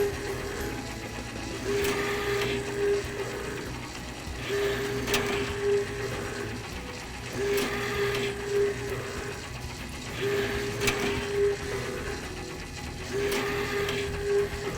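Lil Orbits SS1200 donut machine running steadily, a continuous mechanical hum with regular clanking ratchet-like cycles about every three seconds, close and moderately loud with no talking.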